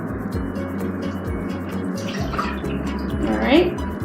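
A cup of milk pours into a bowl with a soft, continuous liquid splashing that swells near the end, heard under a low steady hum and some nearby talking.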